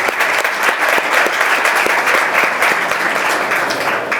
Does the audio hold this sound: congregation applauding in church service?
yes